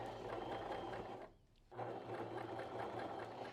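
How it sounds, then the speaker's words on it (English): A bernette b33/b35 sewing machine runs steadily with a hemmer foot fitted, pauses briefly for about half a second, then resumes stitching at a constant close-up hum. "when I start to stitch"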